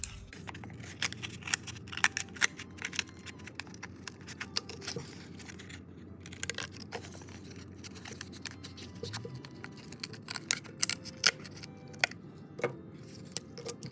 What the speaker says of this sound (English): So I'm going to cut right up through here and cut the triangle out.